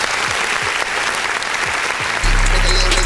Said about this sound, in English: let's give one more round of applause to that record.